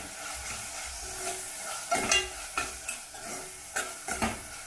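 Turmeric, coriander powder and garam masala are stirred into hot tempering oil for a North Karnataka moth bean curry, a steady close sizzle broken by several sharp scraping strokes of a spoon against the pan.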